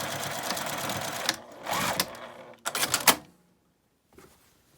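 A sewing machine stitches the divider line of an eco fur tote bag from bottom to top with backstitching, running in a long steady burst, then a pause and two shorter runs before stopping.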